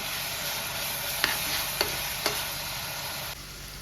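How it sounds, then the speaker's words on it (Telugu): Ginger garlic paste fries in a pan with a steady, even sizzle that runs throughout, broken by three light clinks of a utensil against the pan; no one speaks. "ఫస్ట్ అల్లం వెల్లుల్లి పేస్ట్ మంచిగా ఫ్రై అయ్యేటట్టు ఉంచుకోవాలి"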